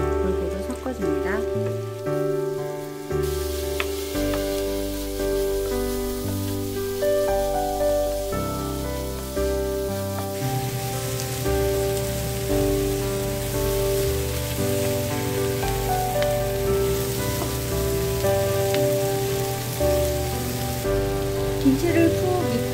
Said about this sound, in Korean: 야채랑 김치가 잘 볶아지도록 골고루 섞어줍니다.